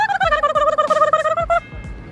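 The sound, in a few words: person imitating a turkey call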